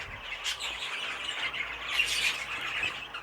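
A show canary squawks and chirps inside its cage, a run of bright, close, fairly loud calls with no one talking.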